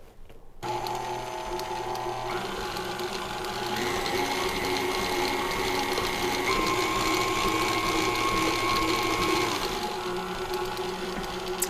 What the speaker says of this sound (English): going to put the mixer on low and start adding in the powdered sugar